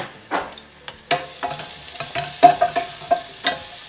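Garlic and onions fry gently in a pan over low heat, with a soft sizzle beneath a series of close, irregular scrapes and taps from stirring.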